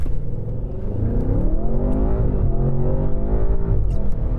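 McMurtry Speirling electric hypercar launching and accelerating hard, a loud rising electric whine with climbing tones that swells steadily and then holds, heard close without any talk.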